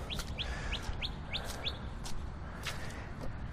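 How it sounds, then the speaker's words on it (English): A small bird close by sings a quick run of bright, repeated chirps over an outdoor walk, then gives a few scattered calls. Low ambient noise sits underneath and no one speaks. "God, bird, you're loud enough."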